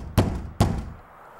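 Two solid knocks on a door, close and loud, spaced about half a second apart, each a dull thud with a short ring-off, followed by quiet.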